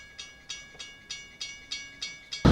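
Time machine steam train from Back to the Future Part III, with rhythmic chuffs or clacks about every 0.3 seconds, moderately loud and even, ending in a sudden loud burst.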